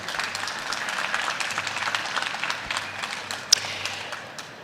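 Scattered applause from a modest audience at an agricultural innovation pitch event, light individual claps forming a thin patter with one sharper clap near the end.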